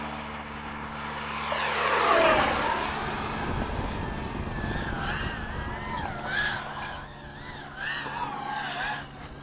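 Eflite 80mm F/A-18D model jets make a low pass over a runway, their electric ducted fan whine swelling to a loud peak as they fly close by, then wavering and fading as they pull away.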